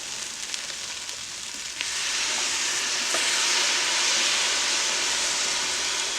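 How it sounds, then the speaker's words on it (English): A quart of stock pours into a hot pan of butter, flour and juices for broccoli cheddar soup, setting off a loud, steady hiss and sizzle that swells and holds close up. "This is a quart of stock that we will put in. And that deglazes the bottom of the pan"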